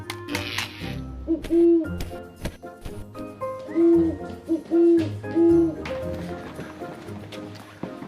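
An owl hooting in repeated soft, low hoots, four or so spaced through a busy mix of footsteps and movement noise in an animated children's church episode.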